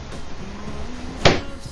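An apartment door in Abiko, Japan is opened at night to step outside: a low creak, then one sharp close clack from the latch or door.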